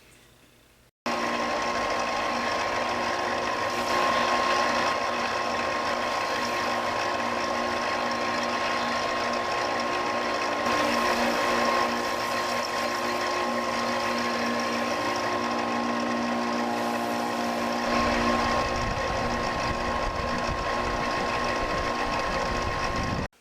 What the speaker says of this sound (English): I'm going to switch over to using the belt sander